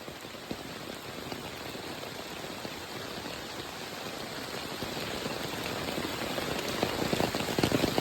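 Heavy monsoon rain pours down over green Konkan countryside at Waghriwadi, a thick, steady roar of drops hitting surfaces, close and constant, growing slightly louder toward the end, no voices.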